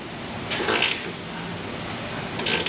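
A torque wrench clicks twice, about two seconds apart, while tightening fasteners on a crankcase, each a bright metallic snap over steady low workshop noise.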